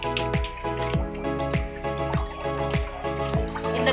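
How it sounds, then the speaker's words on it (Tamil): Fish pieces are rinsed one by one under a running kitchen tap, a steady stream of water splashing and trickling with rhythmic wet slaps, close by and without speech. "இந்த மாதிரி ஒரு ஒரு பீஸாக எடுத்து கழுவுறோம்"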